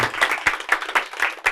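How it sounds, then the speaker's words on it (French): A crowd at a Saturday variety show clapping in a brisk, steady rhythm, with sharp, closely spaced beats of fairly loud hand claps and no talking. "On l'applaudit, on l'applaudit."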